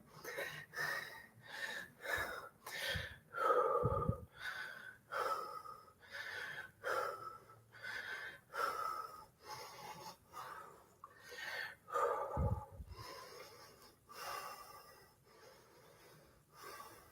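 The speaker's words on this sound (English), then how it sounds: "Go let my breathing calm down just a second before I get in this" Heavy, rhythmic breathing from a person recovering after a shoulders-and-arms weightlifting superset, a steady series of loud inhale and exhale gasps that gradually slow and soften, with a couple of thumps in between.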